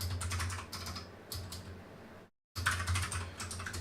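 Clickety-clack typing on a computer keyboard, steady close-up keystrokes in dense bursts with one brief dropout to silence midway, no talking.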